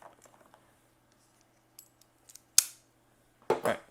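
A knife slicing open plastic packaging for Koss KSC75X headphones, heard as a few faint scrapes and then two sharp, loud cutting rips close by, with no talking.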